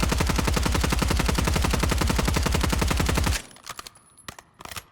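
Rapid automatic gunfire from a weapon in the Warzone video game, a loud continuous burst lasting about three seconds, then a few scattered, quieter follow-up shots and clicks.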